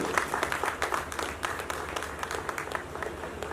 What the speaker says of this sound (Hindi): जोरदार तालियों से इस्तकबाल करें